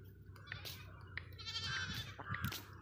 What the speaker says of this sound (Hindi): जिम्मी है जा रहा बकरी चराने के लिए